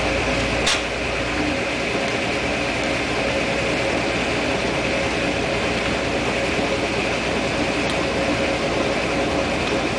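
1958 Dominion Automatic Maiden Wash washing machine running its spin cycle, a steady low motor hum and whir held evenly throughout, with a couple of faint clicks early and late.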